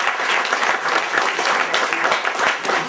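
A steady round of applause from an assembled school audience congratulating students who passed their exams, fairly loud and evenly sustained throughout with many hands clapping at once.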